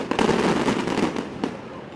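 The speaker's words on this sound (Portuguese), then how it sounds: "Fogos de artifício foram lançados contra os policiais." Fireworks are fired at police during street clashes between protesters and security forces. Crackling bursts and sharp pops sound amid crowd noise and voices, with a stronger burst near the start and another sharp crack later.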